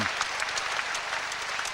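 A tennis crowd at the ASB Bank Tennis Centre in Auckland applauds Michael Chang's semifinal win at the ATP Auckland 2000 event, with dense, steady clapping filling the arena throughout.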